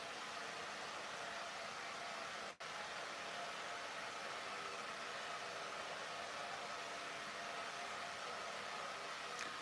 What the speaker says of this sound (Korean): 지금 드라이기 소리가 조금 나고 있어서